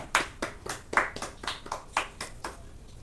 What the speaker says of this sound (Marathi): माझे मुलं पण बॅक साईडने टाळ्या वाजवत आहेत